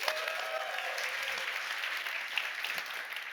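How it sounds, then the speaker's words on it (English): An audience at a tech conference talk about building a next-generation web framework claps steadily for the speaker, a continuous, even round of applause with no voices over it. "you're clapping"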